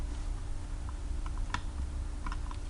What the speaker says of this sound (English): I'm going to hit the delete button on my keyboard